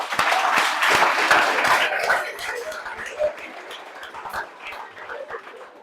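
Secondary-school baccalaureate candidates at Collège Saint Augustin in Parakou applauding themselves, a burst of crowd clapping that is strongest at first and then thins out and fades, with some voices and chatter mixed in.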